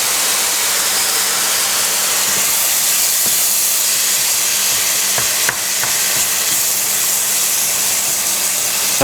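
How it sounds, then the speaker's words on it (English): Minced meat for a Thai dish fries in a hot pan, a loud dense continuous sizzle and hiss close up, with a few faint scrapes of stirring and no voices. "We've only been cooking the mince, you know, 4 minutes, maybe 5 minutes."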